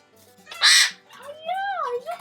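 A rescued pet bird at a bird sanctuary gives a harsh squawk and then a rising and falling whistled call, both close and loud, with a person talking nearby.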